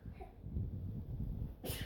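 A single sharp sneeze bursts out near the end, close and loud, after a stretch of low murmuring and background voices.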